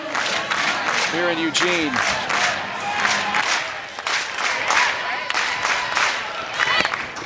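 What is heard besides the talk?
sellout stadium crowd cheering at a college softball game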